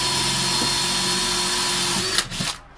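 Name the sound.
power drill drilling a pilot hole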